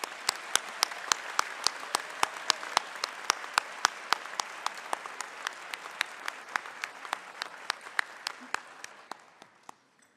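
Audience applause at a Binghamton University doctoral hooding commencement ceremony: sustained, moderately distant clapping with individual sharp claps standing out in a steady rhythm throughout, tapering off at the very end.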